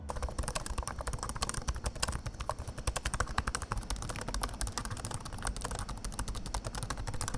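Rapid, steady typing on a Samsung Galaxy Book4 Pro or LG Gram Pro laptop keyboard, close and continuous, with crisp key clicks in a dense irregular rhythm and no voices.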